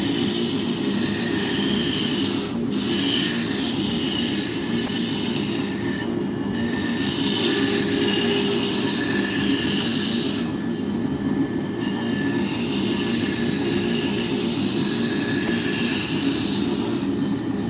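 Spindle gouge cutting wood on a lathe, a steady loud rubbing, rasping scrape with a continuous motor hum, broken by a few brief pauses as the tool lifts off the spinning workpiece.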